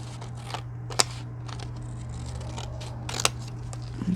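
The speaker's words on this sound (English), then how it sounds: "I'm going to cut it in half" A craft piece for a barn door project is cut in half with scissors, giving a few quiet, sharp snips spaced out over a faint steady hum, with no talking.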